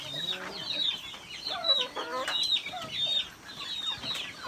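Video-game chickens clucking and squawking in a busy overlapping chorus, steady and close, with occasional higher squeaks.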